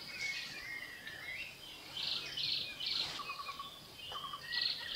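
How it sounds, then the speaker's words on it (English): Greater Yellownape woodpecker calling at a forest edge in Thailand, a series of loud, clear, repeated bird calls at moderate distance, alongside other bird chirps and a faint insect background. "This noisy and extremely conspicuous woodpecker can usually be found on forest edges"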